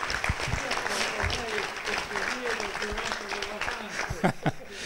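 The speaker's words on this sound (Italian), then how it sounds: "Io farei un applauso solamente per questo." A crowd claps in sustained applause during a lecture on the origins of computing and networking in Pisa, with a voice speaking over the clapping throughout.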